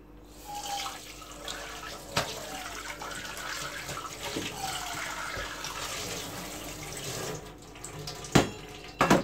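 A measuring cup is rinsed under a running kitchen tap, a steady close splash of flowing water lasting several seconds, with a few sharp knocks of the cup against the sink near the end.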